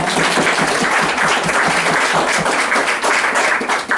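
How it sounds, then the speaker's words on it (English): Sustained audience applause for a woman named Lori, dense steady clapping from a crowd filling the space evenly at full volume throughout, with no voices standing out above it. "So can we give her a round of applause?"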